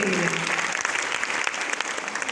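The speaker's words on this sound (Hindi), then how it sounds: "जोरदार ताली होना चाहिए इसके लिए।" Enthusiastic applause from an audience at a gathering, a dense, loud wash of clapping that fills the whole stretch, with a voice briefly audible at the very start.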